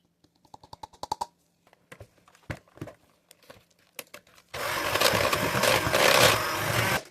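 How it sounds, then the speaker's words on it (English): An electric mixer beats butter, sugar and egg into a sweet tart pastry dough; a few light clicks and taps come first, then the mixer starts with a loud, steady, close-up whir. "Mix it with the butter, then turn the mixer on."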